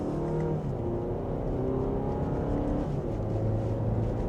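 An Audi Q5 Premium Plus SUV with a 7-speed dual-clutch transmission accelerating mildly in dynamic mode, a smooth steady engine hum heard from inside the cabin, moderate and even throughout.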